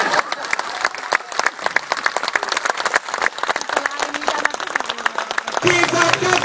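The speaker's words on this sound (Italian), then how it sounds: "vi salutiamo con un caloroso applauso" Warm, dense audience applause closes a drag show in San Pietro in Casale, with crisp rapid claps and voices mixed in; near the end music swells in beneath the clapping.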